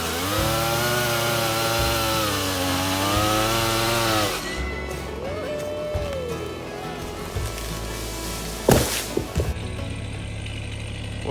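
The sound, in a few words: chainsaw cutting down birch trees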